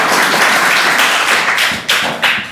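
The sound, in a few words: audience clapping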